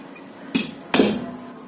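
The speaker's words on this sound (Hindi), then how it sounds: "अपन इस पर थोड़ा सा ठोक करके और निशान लगा लेंगे ताकि अपना ड्रिल इधर उधर स्लिप ना हो" Two sharp metallic hammer taps marking a spot on a Pulsar 150 motorcycle handlebar before drilling, the second louder, with a brief ring after each in a quiet room.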